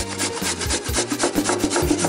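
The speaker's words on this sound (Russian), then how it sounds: "Тру я сырок на мелкой терке" Cheese rubbed on a fine grater, slightly frozen beforehand: close, rhythmic rasping strokes, about three per second, loud and alone.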